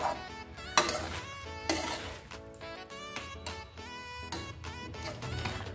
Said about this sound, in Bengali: এখন আমি যেই চিনিটা রয়েছে সেটা আমি দিয়ে দেব, আর দিয়ে এটাকে আমি আবারও নাড়িয়ে দেবো ভালো করে